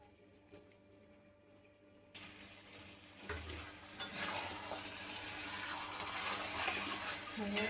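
Chicken curry sizzles and spatters in a pan as it is sautéed, starting quiet, then a lid or stir brings a louder, steady crackle with occasional clinks.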